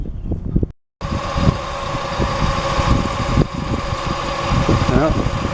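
A Kia Sportage with an oil leak starts up again after a brief silence, and its engine settles into a steady, close idle hum with a faint whine as someone talks over it.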